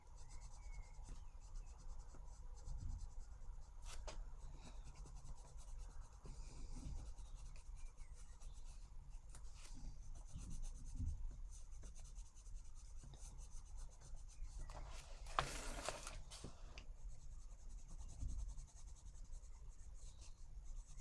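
An orange coloured pencil rubs across paper in a colouring book. The soft, continuous scratchy strokes are faint and close, with a few brief louder rasps and no talking.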